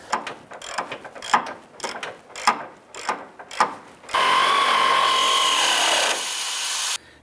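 Nut being threaded onto a control arm bolt on a 2002-2007 Jeep Liberty during upper control arm replacement: a run of close, irregular ratcheting and metallic scraping bursts, then a steadier sustained grinding whir for a few seconds.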